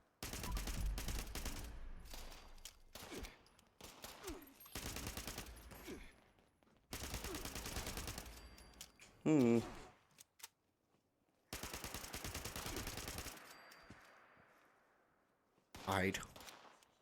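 A 10mm submachine gun fires in a video game in several rapid full-auto bursts of a few seconds each, separated by short pauses, with someone talking between the bursts.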